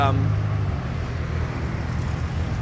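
Car traffic passes as a steady broadband roar along a road, filling the background at moderate level while someone talks over it.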